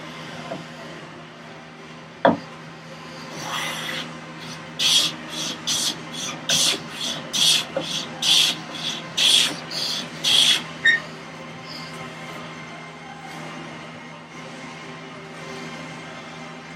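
A hand file rasps a bevel chamfer onto a wooden vise chop on a workbench, about a dozen rhythmic back-and-forth strokes, close and crisp, after a single sharp knock.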